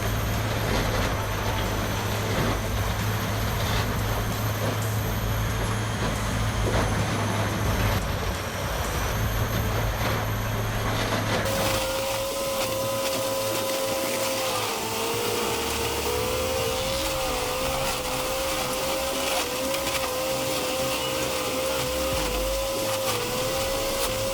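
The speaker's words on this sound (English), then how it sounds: "They're built to keep this grinder chewing non-stop in the harshest conditions." An industrial wood chipper grinder shreds trees into chips, giving a loud, continuous roaring grind with a steady mechanical whine that shifts in pitch partway through, with no pauses and no voices.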